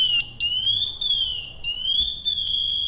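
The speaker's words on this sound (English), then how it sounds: "We hear that beeping." A firefighter's motion safety alarm sounds a continuous high-pitched electronic tone that wavers slightly in pitch, loud and close, with faint background noise.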